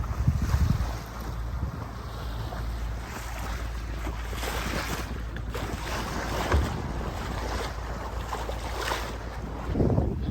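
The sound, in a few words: north wind blowing at sea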